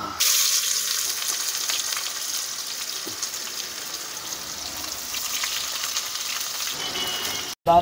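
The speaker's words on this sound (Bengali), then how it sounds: "এই যে কড়াইয়ে তেলও দিয়ে দিয়েছি, দেখতে পাচ্ছ। তো এবার আমরা চিকেনটা বানিয়ে ফেলি।" Chicken frying in hot oil in a kadai, a steady close sizzle running unbroken for several seconds with no talk over it, cutting off abruptly near the end.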